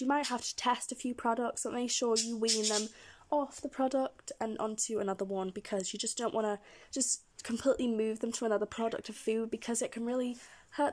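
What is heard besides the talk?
No everyday noises stand out.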